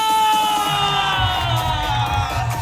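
Large crowd at a 70th birthday celebration cheering and shouting loudly, a sustained roar of yells and whoops filling the whole moment, close and energetic.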